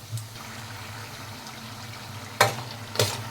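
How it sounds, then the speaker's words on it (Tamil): Rice flour bonda snacks deep-frying in hot oil, a soft continuous bubbling hiss with a few brief louder crackles, close and alone without talk. "ஆயிலில் வந்து நல்லா ஃப்ரை ஆகட்டும்"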